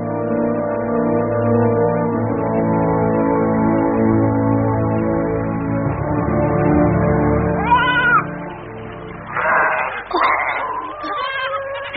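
Goats and sheep bleat in a radio drama over a held musical chord, several wavering cries arriving close together toward the end, loud and near.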